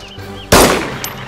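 A single loud gunshot cracks sharply in the video game DayZ, during PvP fighting in Chernogorsk. It is followed by a short decaying echo.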